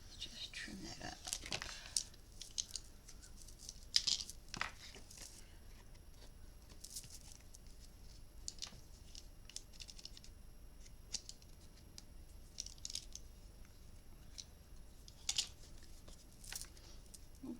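Scissors trim paper for a handmade memory book, giving a few crisp close snips and cuts early on, then lighter rustles and clips spread out at a soft, quiet level with a low voice murmuring nearby.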